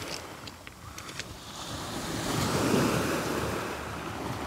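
Sea waves wash onto a beach at Anapa, a steady near surf hiss that swells louder midway, with some wind noise on the microphone.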